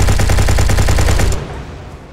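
Gunshots hitting barrels in the video game Inglorious Waifu Vs Nazi Zombies, a quick, loud burst of rapid, evenly spaced shots lasting just over a second before cutting off into a fading tail.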